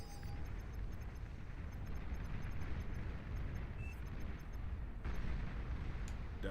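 A commander unit in a strategy video game is destroyed amid a heavy rumbling roar of explosions and battle noise that continues without pause, with a sharper burst near the end.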